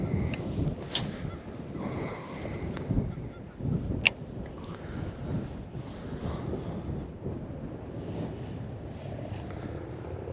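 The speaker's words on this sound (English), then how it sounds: "I just wish it wasn't so damn windy." Strong wind buffets the microphone on open land around a pond, a steady roaring rush with gusty swells, while geese honk now and then in the distance.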